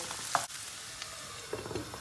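Close, steady sizzle of potatoes frying in hot oil in a pan, with a couple of light scraping stirs and clinks over the crackling.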